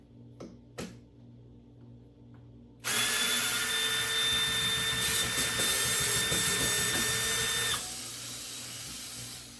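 A Ryobi USB lithium cordless screwdriver drives a 1-inch screw: after a few faint clicks, the motor whirs loudly and steadily for about five seconds, then cuts off abruptly, leaving quiet.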